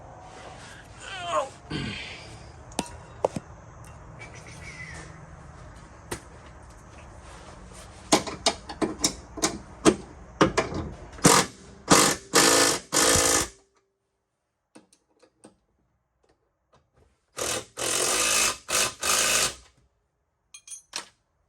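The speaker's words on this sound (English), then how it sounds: "put wrench on one side, the impact on the other, and then get these suckers tightened down" Impact wrench tightening lower rear control arm bolts on a vehicle, sounding as a string of sharp, close rattling bursts after some clanking tool handling, then silence, then a final few hammering bursts.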